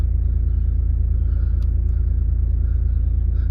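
A Volvo V40 2.0 D2 R-Design diesel with a manual gearbox idles up close, a loud, steady, low rumble with an even pulse throughout and no talking.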